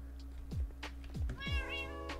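A Minecraft cat meows up close three times in quick succession, each a short downward-sliding call, over a faint background hum.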